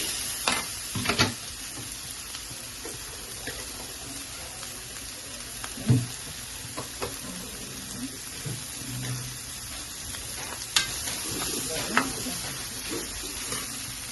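Water poured into a hot pan while cooking biryani-style semiya (vermicelli) sizzles and hisses steadily for the whole stretch, with a few louder splashy bursts and stirring clatter.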